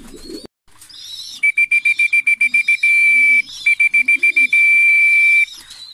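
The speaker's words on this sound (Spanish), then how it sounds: "los pichoncitos se vayan acostumbrando al sonido del silbato" A pigeon keeper blows a feeding whistle for weaning racing-pigeon chicks: a loud, piercing steady tone broken into rapid repeated pulses with a couple of longer holds, faint soft cooing underneath.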